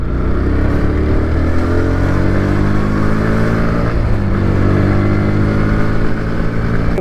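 A motorcycle engine revs loudly and continuously on a street in Sivakasi, its drone rising and falling in pitch over several seconds with no talking.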